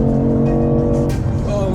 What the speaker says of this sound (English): So this is the car in sports mode.